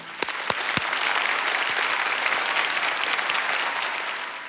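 A studio audience at a Korean television broadcast breaks into loud, dense applause, a continuous wash of many hands clapping close up, opening with a few sharp individual claps and holding steady throughout.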